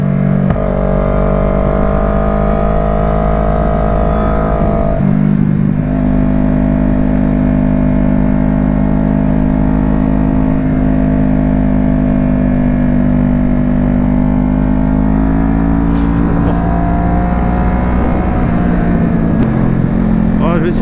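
A car driving along a road near Millau and Sainte Eulalie de Cernon, steady engine drone and tyre roar heard from inside the cabin, continuous throughout with a brief shift in tone partway.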